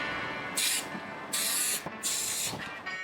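Three bursts of spray paint hiss from a can onto the underside of a machine for rust protection, each lasting about half a second, separated by short pauses, close and fairly loud.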